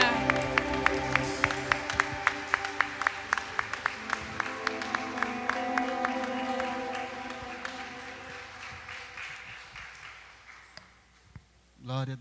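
Church congregation at a Sunday worship service clapping together in a dense, sustained round of applause with sharp individual claps, fading out and leaving a brief burst of voice at the end.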